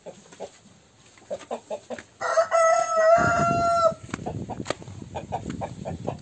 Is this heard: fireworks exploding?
no